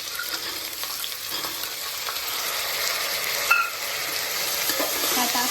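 Peanuts, potato, chickpeas and field beans sautéing in a pan, a steady, close hissing sizzle with faint stirring scrapes and a soft clink, no talking.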